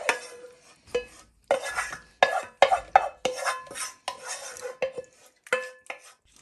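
Buffalo wings being tossed with sauce in a bowl, with repeated clattering, scraping utensil strokes in uneven bursts, close and without talk.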